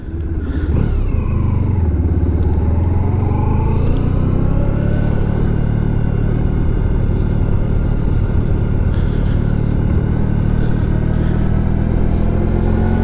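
Steady engine drone and road rumble from a 1994 Honda ST1100 touring motorcycle being ridden, loud and continuous with a rising pitch early on as it accelerates, no talking.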